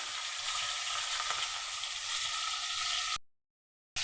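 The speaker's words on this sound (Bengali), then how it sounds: "দেখো মাছটা ভাজা হচ্ছে" Fish frying in hot oil in a wok: a steady, close, hissing sizzle with faint bubbling, no talk, cutting off abruptly into silence near the end.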